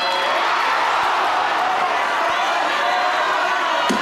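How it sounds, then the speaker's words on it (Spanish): A studio audience on the Mexican game show Atinale al Precio gives a steady, loud ovation of mixed cheering and clapping that holds at full volume from start to finish. "La ovación del público ahí."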